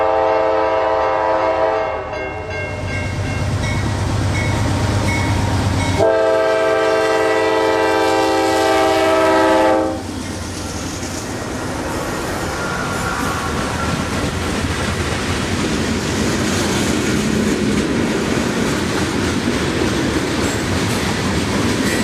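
A Norfolk Southern freight train nears Crawford interlocking near Jacksonville, where the CSX line crosses at grade: a loud, sustained horn blast over rumbling locomotives, then the horn stops and heavy rolling wheel noise continues close by.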